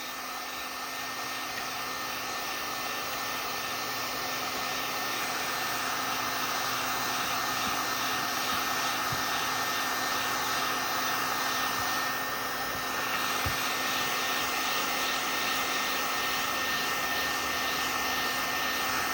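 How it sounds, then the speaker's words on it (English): A heat gun warms a dented Cub Cadet hubcap, giving a steady, constant blowing hum that stays even from start to finish, close and with no talking. "I'm going to heat it up a little bit."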